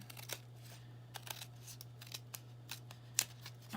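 Scissors trimming a handmade shaker card, with a quick run of crisp, close snips at an uneven rhythm and one sharper cut near the end, all over a quiet steady hum with no talking.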